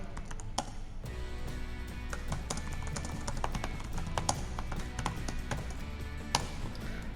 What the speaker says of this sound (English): is just easier to type with a keyboard